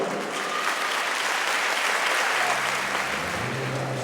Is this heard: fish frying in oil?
no